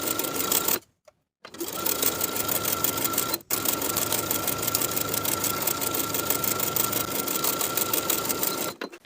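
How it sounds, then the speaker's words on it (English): A sewing machine stitches a waistband onto the top of barrel pants, running in long, loud, steady bursts with two brief stops, close to the microphone. "Sew the waistband to the top of the pant all the way around with a 3/8 inch seam allowance."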